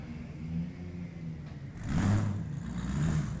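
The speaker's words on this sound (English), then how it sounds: "Both cars pulling back into the pit chute." Drift cars at a D1NZ drifting championship grand final at Baypark Stadium, Tauranga, rolling back into the pit lane: a steady mid-pitched engine drone with rising revs partway through, moderately distant and unaccompanied by talk.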